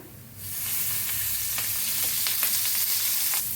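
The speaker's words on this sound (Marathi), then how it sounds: "हळदीला बी हलवून घेऊया थोडंसं तेल होतोय आपण" Chopped fresh turmeric hits a little oil in a pan and a steady, loud sizzle starts almost at once, with faint crackles and stirring throughout.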